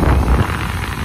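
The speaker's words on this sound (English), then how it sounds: "you're gonna want a hairdryer test, aren't you? Is it powerful enough?" Hair dryer in a Premier Inn hotel room at London Gatwick North, blowing with a steady, loud roaring whoosh close to the microphone.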